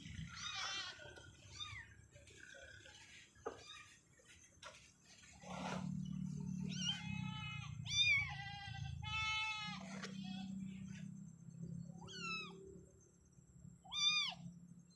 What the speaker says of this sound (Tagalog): tinapon yung pusa doon sa ano, kutig dyan, no. Ito, kawawa, naiyak-iyak eh.